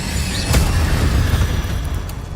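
An Incendio fire spell from the video game Hogwarts Legacy lands as a loud booming burst with a sharp crack early on, followed by a rumbling roar that slowly tails off.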